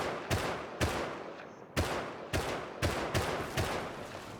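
Unsilenced gunfire in the video game Rust cracks out in a rhythm of single loud shots, about eight in four seconds, each sharp and punchy with a short tail.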